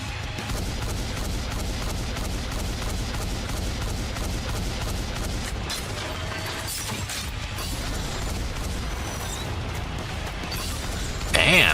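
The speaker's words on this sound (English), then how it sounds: "Damn, the explosion radius is nuts there." Booming explosions and bursts of gunfire from the video game NIKKE keep up in a dense, steady barrage under music and game sounds, with a louder hit near the end.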